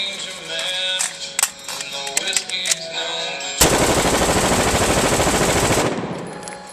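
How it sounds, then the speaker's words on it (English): Rapid automatic gunfire from a rifle fitted with a bump stock emptying magazines, one loud continuous roaring burst lasting about two seconds after scattered shorter sounds. "This is how quick a magazine goes."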